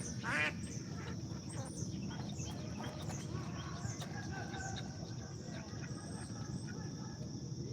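Ducks quacking in a morning outdoor setting, one near quack burst at the start and then scattered fainter calls over a steady hum of insects and background noise.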